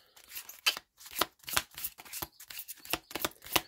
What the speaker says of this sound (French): on va aller tout de suite tirer une carte